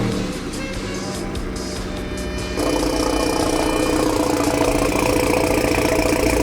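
A BMW F30 sedan idles steadily by a garage during a wheel swap, a continuous engine hum with a slight rise in level partway through, close and without talk.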